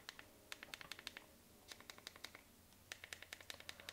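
Sharp clicks from the volume rocker button on a Google Pixel 7 Pro official case, pressed in quick bursts of several crisp, close, tactile taps with short pauses between groups.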